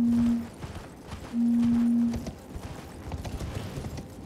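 A horse's hooves clip-clop in a steady galloping rhythm while riding in Elden Ring, close and fairly loud, with a low droning tone sounding twice over the hoofbeats.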